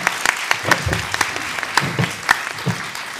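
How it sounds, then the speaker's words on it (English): A conference audience at a pensioners' independence event claps after a presentation. The applause is fairly loud and uneven, with individual sharp claps standing out, and carries on for several seconds. "let's give Robin applause for his presentation."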